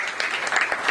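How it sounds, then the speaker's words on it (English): A conference audience at a startup event in Seattle claps together in steady applause, a dense crackle of many hands filling the room for a brief moment, with no talking over it. "can we have a round of applause for an authentic second generation angel investor"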